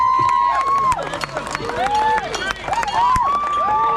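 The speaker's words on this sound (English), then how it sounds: "Round of applause, ladies and gentlemen" Spectators at a Bohurt armoured medieval combat event in Gumeracha clap and cheer in a loud, busy round of applause, with a sustained wavering tonal sound ringing over the crowd throughout.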